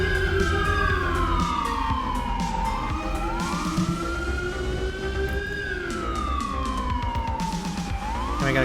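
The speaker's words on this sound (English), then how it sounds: "Here comes the ambulance finally." A loud wailing ambulance siren in the video game GTA V sweeps up and down in long slow cycles, close by, over a rumbling engine and busy background noise.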